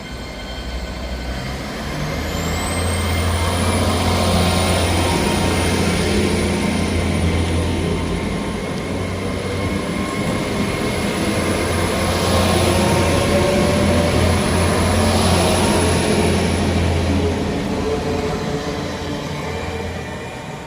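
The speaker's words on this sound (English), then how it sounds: "Departing out now is the 1205 LNER service from Aberdeen to London King's Cross" The 12:05 LNER service from Aberdeen to London King's Cross pulls out of Inverkeithing station with a steady loud engine drone and rolling wheel noise, a high whine rising early on and holding throughout, fading slightly at the end.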